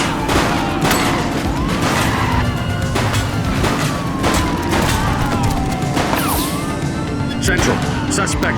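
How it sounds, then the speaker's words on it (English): Gunfire in a police shootout in the game The Precinct, scattered sharp shots over a dense, loud backdrop of sirens and chaotic noise, with voices talking through it. "Shots fired! Shoot the vehicle!"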